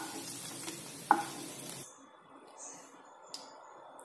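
Okra sizzles lightly in oil in a pan, with a brief clink of stirring. The frying then drops to a faint crackle.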